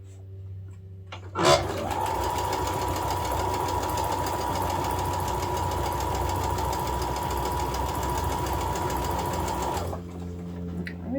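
A sewing machine runs continuously, stitching quilted cotton fabric pieces. Its loud, steady mechanical hum and rapid needle chatter last about eight seconds, then stop, with quiet room noise before and after.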